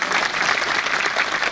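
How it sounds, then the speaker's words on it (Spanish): Audience applause for the panelists at the close of a financial stability panel marking 25 years of dollarization, a steady, dense wash of clapping held throughout with no voices over it. "Un aplauso para todos ellos."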